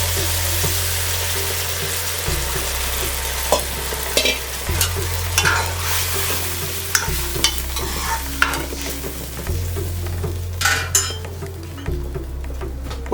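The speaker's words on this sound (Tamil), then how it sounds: "இந்த புளித்தண்ணியை நான் இப்போ இதில் சேர்த்துறேன்." Tamarind water poured into a hot pan while making temple-style puliyodharai, sizzling steadily with spoon scrapes and stirring clatter against the pan and a low constant hum underneath; no talking.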